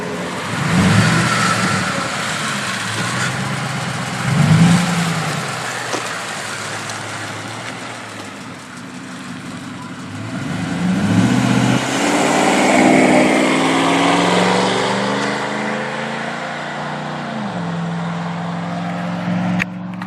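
A 2007 Ford F-150 pickup engine with new dual exhaust and tips rumbles and revs, rising and falling with deep exhaust tone, then pulls away steadily with a growing, throaty drone.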